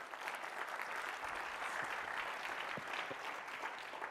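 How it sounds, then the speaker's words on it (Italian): An audience at a business meeting in Cortina d'Ampezzo applauds a speaker called to the stage, a steady, even wash of clapping from a moderately distant crowd. "Prego, un applauso."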